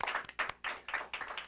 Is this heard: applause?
yes